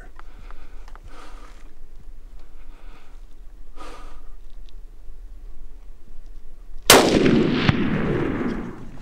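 A loud, close rifle shot cracks out near the end during an oryx hunt in New Mexico, a single sharp blast followed by a rolling echo, after quiet field ambience with faint breathing.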